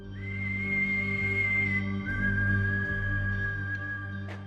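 A sustained, steady whistled note, then a slight drop to a second held tone, over a low constant hum.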